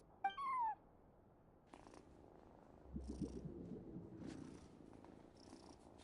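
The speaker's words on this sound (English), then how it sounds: "No one except for a cat watching over the front desk." Cat purring at the front desk in Genshin Impact, a soft, steady, low rumbling purr heard alone and close, preceded by a brief tonal chirp.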